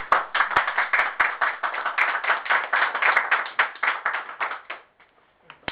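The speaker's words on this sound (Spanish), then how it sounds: "un aplauso por favor" A small audience applauds at the close of an evening lecture, a brisk patter of individual claps with distinct sharp strikes standing out, fading away near the end into quiet.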